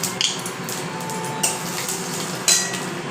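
Panch phoron, dried chillies, cardamom and cinnamon frying in hot oil, giving a steady sizzle with a few sharp clinks of a utensil against the pan.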